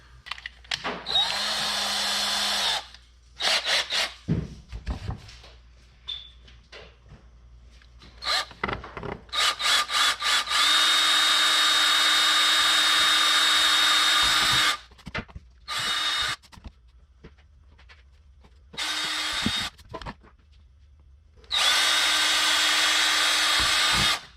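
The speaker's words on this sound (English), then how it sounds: "And drill these holes right here out." A power drill whirs in several long bursts, drilling holes in a plate, close and loud, separated by clicks, knocks and brief pauses.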